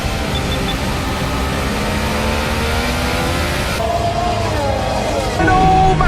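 A Formula 1 engine screams loudly during an overtake, its pitch climbing and falling in sweeping revs, with a commentator talking over the race.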